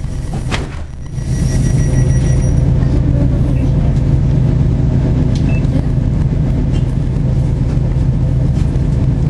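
A Class 158 diesel train departs Motherwell station, with a steady loud engine drone and rumble building after a brief clatter at the start and continuing evenly to the end.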